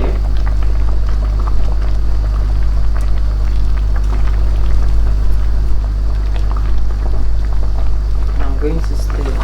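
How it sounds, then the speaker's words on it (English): Ogbono soup boiling in a pot: a steady, dense bubbling and popping texture that stays even throughout, close and fairly loud over a constant low hum. "let it boil for a few seconds"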